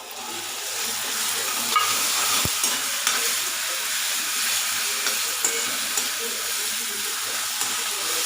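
Masala spices fry in a pan while cooking goat brain bhaji village style, with a steady broadband sizzle and a few faint clinks of stirring throughout.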